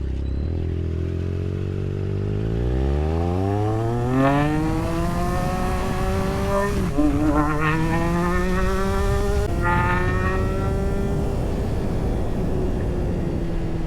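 A Triumph Trident 660 motorcycle riding along, engine rising steadily in pitch as it accelerates, with brief dips at smooth gear shifts before climbing again; loud, close and continuous with wind noise, no talk.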